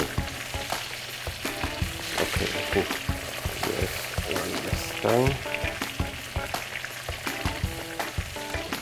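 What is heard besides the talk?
schnitzel frying in oil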